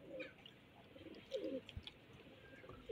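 Pigeons or doves coo softly in short, repeated calls while being fed outdoors, with faint chirps and no talking.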